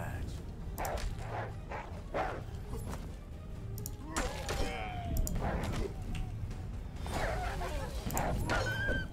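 Dogs barking and yipping in the video game Achilles Legends Untold, several short barks and whimpers spread through the clip over a steady game soundscape, with a voice talking faintly at times.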